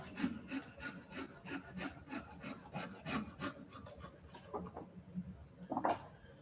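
A small twig of wood is sawn to length by hand, giving a quiet, steady run of rasping back-and-forth strokes, close and alone, with a couple of sharper scrapes near the end.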